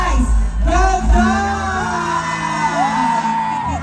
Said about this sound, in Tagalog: palakpakan natin na may kasamang hiyawan, si Vice Ganda!